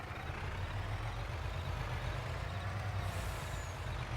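A semi truck driving in the Farming Simulator 22 video game, a steady low engine drone rumbling continuously at moderate distance, fairly quiet, with a faint higher hiss toward the end.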